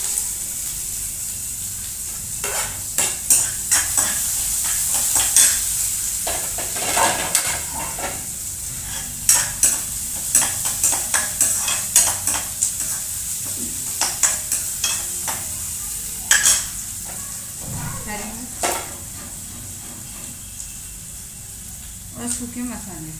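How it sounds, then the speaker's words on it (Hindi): Mustard seeds, curry leaves and onion sizzle in a hot pan for upma, a steady bright hiss broken by frequent sharp crackles and spatters, close up throughout with no talk. "अब डालेंगे इसमें राई, करी पत्ते, प्याज,"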